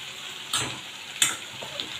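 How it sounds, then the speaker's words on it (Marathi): Stuffed brinjal and okra fry on medium gas, giving a soft, steady sizzle broken by two sharp spoon scrapes against the pan while they are stirred. "बघा असं सगळं मिक्स करायचं खालीवर छानपैकी आणि मिडियम गॅसवर"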